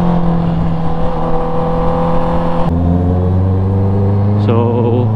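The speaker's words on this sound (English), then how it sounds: "ang ganda ng tunog niya, ang ganda ng exhaust niya, tapos remapped and reflashed by Motorrad." A remapped, reflashed 2020 Honda CB650R motorcycle idles close by with a steady low exhaust hum that drops to a deeper pitch partway through, then settles again.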